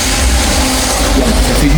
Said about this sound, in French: On entend les camions et les bagnoles qui passent.